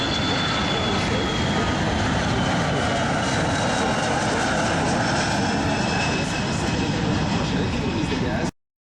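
Military aircraft flying an approach at the Avord air base (BA 702) open day, a loud sustained jet engine roar that fades out at the end, with a voice talking over it.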